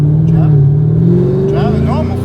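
A car engine revs during a test drive, a steady mid-pitched drone with rising pitch sweeps, loud and close, while people talk over it inside the car.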